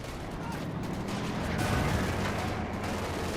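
Dense, continuous gunfire and explosions from a Company of Heroes 2 battle, a loud unbroken wash of shots and booms with no pauses.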